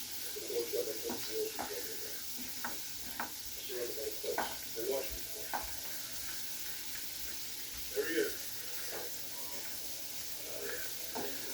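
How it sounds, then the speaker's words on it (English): Four-cheese corkscrew pasta is stirred in a pan over a soft steady sizzle, with intermittent scraping and clinking strokes of a utensil at an irregular rhythm, close and fairly quiet. "Now I'm gonna mix it so that way it could smell and taste delicious and amazing."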